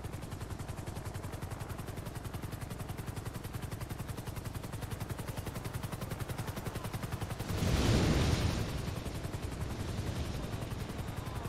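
Helicopter in the video game FiveM, a loud, steady rotor chop that runs the whole time, with a brief surge of heavier rumble and noise near the end.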